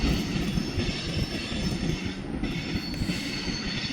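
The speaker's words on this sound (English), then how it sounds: "the end of this train rolling by" The tail end of a long CSX freight train on the Grand Rapids Subdivision rolls past close by, a steady loud rumble of wheels on rail with faint squeal and rhythmic clatter.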